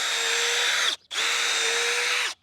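Electric drill pre-drilling holes in a 2x6 board: two steady, loud whirring bursts of about a second each, separated by a brief pause, with no talk.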